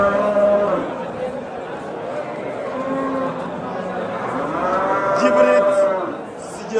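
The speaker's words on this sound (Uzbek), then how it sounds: "Hibrid sigir, bolasi xunajin." A hybrid cow at a busy cattle market in Kurgantepa, Andijan, lets out several drawn-out moos, some close and loud, while people chatter nearby.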